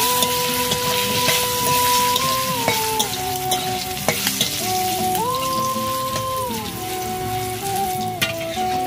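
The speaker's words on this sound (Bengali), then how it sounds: "তো আলুগুলো প্রায় আমার লাল লাল হয়ে ভাজা হয়ে গেছে," Potato pieces seasoned with salt and turmeric fry in hot oil, sizzling loudly and continuously at close range while a spoon stirs them with repeated scraping clicks, over a steady mechanical hum.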